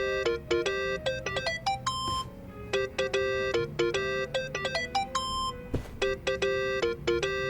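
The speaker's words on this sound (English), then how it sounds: "Think that's your phone," A mobile phone ringtone in Yakuza: Like a Dragon, a bright, repeating electronic melody of quick beeping notes in several phrases, loud and close with nothing else heard.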